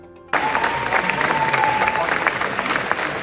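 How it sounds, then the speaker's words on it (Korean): Sudden burst of loud, sustained standing-ovation applause from a large audience at the Venice International Film Festival, dense clapping with a few cheers mixed in, continuing steadily to the end. "근육 액션 원툴 드웨인 존슨이 A24 영화에 나와서 연기력으로 베니스 국제 영화제에서 15분 12초나 되는 기립박수를 받고"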